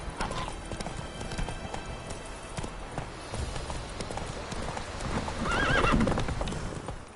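Roach, a horse in the Witcher 3 video game, gallops with rapid, loud clip-clop hoofbeats throughout, and a whinny rises near the end.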